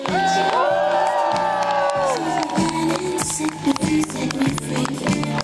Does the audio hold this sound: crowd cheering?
yes